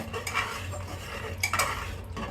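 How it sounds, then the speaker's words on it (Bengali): Thick haleem made with Radhuni packet spice being stirred in a pot, a spoon scraping and knocking against the metal in uneven strokes, close and fairly loud with no voices. "কিছু সময় পর পর নেড়ে দিতে হবে, নাকি তলায় আবার লেগে যেতে পারে।"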